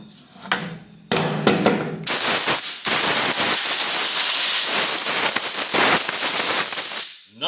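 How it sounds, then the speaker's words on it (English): A long, roaring hiss of shop compressed air at 175 psi blasts across a vintage Craftsman table saw, opening with a few short bursts before settling into a loud, sustained rush that cuts off at the end. "I'm just going to hit it with a big blast of compressed air"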